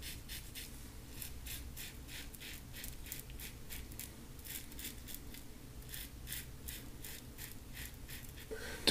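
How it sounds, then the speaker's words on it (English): A razor glides across lathered skin during a wet shave with slick shaving soap, giving soft repeated scraping strokes in a steady rhythm, close and quiet with no talk. "Just turning the razor there to try to adapt to the direction of the hair growth."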